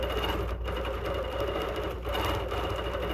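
A Bernina Q16 longarm sewing machine free-motion quilting a small project, a steady fast needle chatter running unbroken at moderate level, close and alone, with a couple of brief soft dips.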